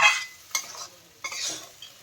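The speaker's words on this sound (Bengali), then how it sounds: "এবার খুব ভালো করে মশলা দিয়ে এটাকে মিশিয়ে নেওয়া হচ্ছে" Boiled chickpea lentils are stirred with spices in a pan, with a few scraping strokes and a soft sizzle between them.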